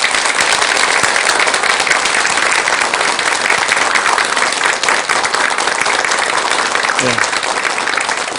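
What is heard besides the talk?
audience applause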